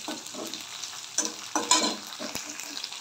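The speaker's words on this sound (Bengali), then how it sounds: "এবার বিনসটা একটু ভাজা ভাজা হবে" Green beans frying in a pan give a quiet, steady sizzle, broken by a few sharper scrapes and clatters from stirring.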